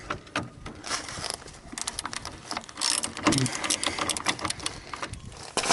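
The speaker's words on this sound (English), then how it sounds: "So, now I just got to pull these bolts out, which is going to be easy because they're already loose." A wrench cranks loose bolts out of a Nissan 240SX power steering rack in a workshop: a dense, continuous run of close, fast metallic ratcheting clicks with uneven bursts throughout.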